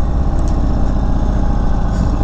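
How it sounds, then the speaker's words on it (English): Exhaust of a 2022 Indian Chief Bobber Dark Horse motorcycle: a loud, close, deep rumbling idle with an even pulsing beat that holds steady throughout, with no voices. "Love the sound of this exhaust too."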